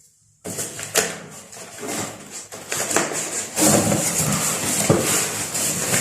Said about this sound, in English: I have a pair of scissors here to open the box.